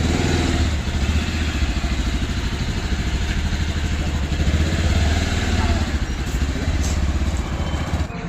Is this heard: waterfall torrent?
no